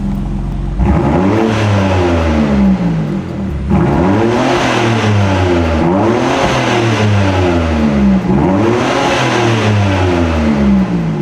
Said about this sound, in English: Let's show you what it sounds like. So it does have a valve.